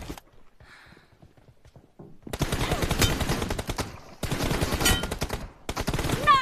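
Rapid gunfire in a video game team deathmatch, loud bursts and sustained automatic fire starting about two seconds in after quieter clicks and footsteps, with brief pauses between volleys.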